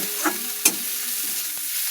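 Jute leaves fry in rohu fish oil in a wok, a steady close sizzle with a couple of sharp utensil clinks against the pan.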